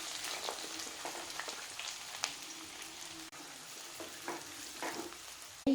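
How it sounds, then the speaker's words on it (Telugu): Onions, green chillies and curry leaves fry in a pan, with a soft steady sizzle and crackle, scattered light pops and stirring, ending in a sharp knock. "ఇప్పుడు ఉల్లిపాయలు, పచ్చిమిరపకాయలు, కరివేపాకు వేసేసుకుందాం."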